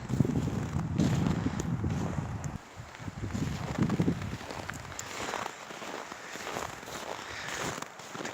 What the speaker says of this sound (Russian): Но немножко ветрено.